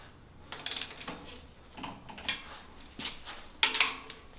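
Front wheel axle nuts on a pedicab are tightened with a wrench, producing a series of quiet metallic clicks and ratcheting scrapes in short bursts with pauses between them, close by and without talk.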